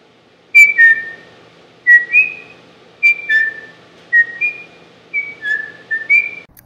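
A whistle LED module wired to run on 24 volts on a small robot gives repeated pairs of bright, sliding electronic whistles, five short bursts in a steady rhythm, close and clear over a faint background hum.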